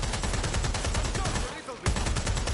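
Rapid automatic gunfire in the video game Watch Dogs Legion, dense and loud, with continuous rattling bursts, a brief dip in the middle, then more sustained shooting.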